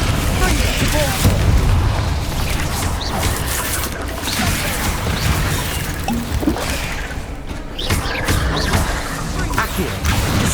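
Spell blasts and explosions crash repeatedly through a Hogwarts Legacy combat fight, loud, dense booms and impacts layered with game effects while a character shouts incantations over them.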